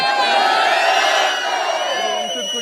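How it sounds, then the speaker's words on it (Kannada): A loud crowd cheers and whoops together in a sustained, close roar of many voices that fades slightly toward the end, with no distinct clapping standing out. "ಅದು ನನ್ನ ಕಿಚ್ಚನ ಚಪ್ಪಾಳೆ"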